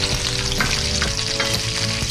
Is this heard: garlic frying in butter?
yes